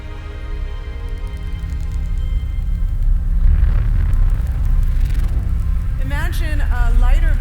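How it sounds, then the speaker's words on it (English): Sonified merger of a light black hole falling into a much heavier one: a steady deep rumble, with rising chirp-like sweeps toward the end, loud and continuous. "The sound you're hearing is a light black hole banging on space each time it gets"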